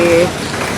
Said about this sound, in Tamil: மழையா மழை